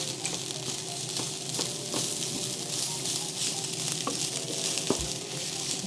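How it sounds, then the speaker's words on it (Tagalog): Leftover rice frying into sinangag in a pan gives a steady close sizzle, with occasional clinks and scrapes of stirring and no talk. "So, sasangag ko na to kasi maraming natirang bahaw eh."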